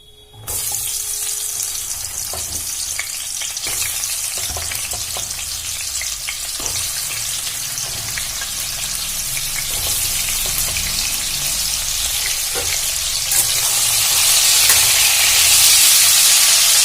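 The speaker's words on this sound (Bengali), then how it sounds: "তেলটা গরম হয়ে গেছে, আমি এবারে পটলগুলো ভেজে নেব।" Pieces of pointed gourd, washed and rubbed with salt and turmeric, fry in hot oil with a steady close sizzle that holds for the whole stretch and grows louder and brighter near the end.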